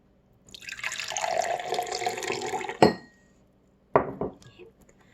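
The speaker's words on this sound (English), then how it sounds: "we're going to pour about 2 inches of water into the bottom" Water poured into the bottom of a glass or jar to about two inches deep, a steady close liquid rush lasting a couple of seconds, then a sharp clink and a few small knocks of glass.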